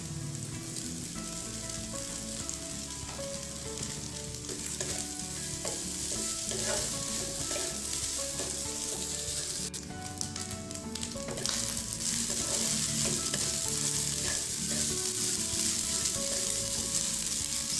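Cooked rice stir-fried in a pan for nasi goreng liwet, a steady loud sizzle with continuous scraping and tossing of a spatula, close up and without any voice.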